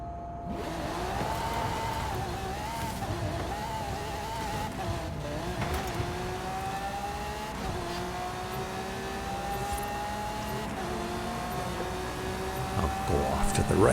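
Racing-game cars launch next to the Hoonigan RS200, their engines revving hard and climbing through gears in a continuous, loud drone, with several engines overlapping close by throughout.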